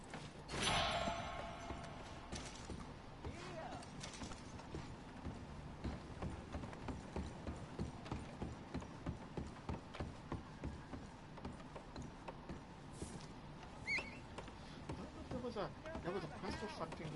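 Horse hooves clip-clop steadily in a video game on PS4 as the horse is led along, a regular rhythmic beat running the whole time under talking voices and ambient game sounds.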